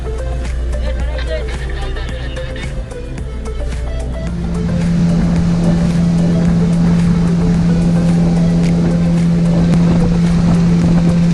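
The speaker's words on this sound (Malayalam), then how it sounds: "ഞങ്ങളുടെ 2 പേരുടെയും ആദ്യത്തെ സ്പീഡ് ബോട്ട് യാത്രയാണിത്." A speedboat cruises on the Andaman Sea near Elephant Beach, its engine droning loud and close under steady wind rush, rising to a sustained whine after a few seconds, with voices talking over it.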